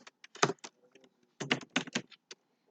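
Clacking keystrokes on a computer keyboard while a name is entered into an online sign-up form, two short clusters of quick taps separated by a brief pause, close and clear with no talking.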